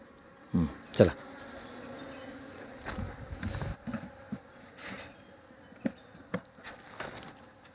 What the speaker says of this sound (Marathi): इथं इथं माशा आहेत